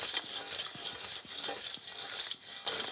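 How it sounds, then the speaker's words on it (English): Crisp sweet potato wedge chips rustle and scrape against a bowl in rhythmic tossing pulses, a continuous dry shuffling, close and soft, with no voices. "I love tossing crispy chippies, just so they're all coated."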